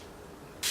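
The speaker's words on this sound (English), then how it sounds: "I usually just spray each eye" A single short hiss of makeup setting spray misted over the eyes, close and brief, following a moment of quiet room tone.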